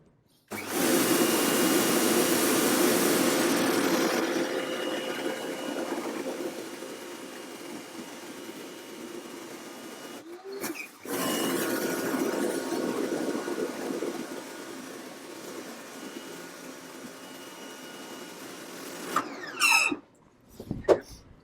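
An AVA Go P55 pressure washer blasts a wooden deck, a loud steady hiss-roar that runs for several seconds, drops to a softer spray, cuts out briefly, then resumes before stopping with a few clatters near the end.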